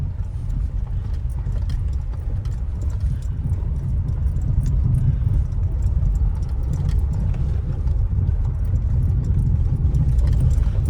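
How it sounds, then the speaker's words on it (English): A Citroen C4 Loeb edition with Bilstein suspension drives slowly over a rough car park, a steady loud road and engine rumble with faint rattly vibration from worn anti-roll bar D-bushes. "I think the anti-roll bar D-bushes are still vibrating."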